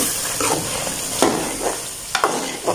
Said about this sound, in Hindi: सबसे पहले डाल देते हैं हम आलू, प्यारे प्यारे आलू, इनको थोड़ी देर भून लेते हैं मसाले के अंदर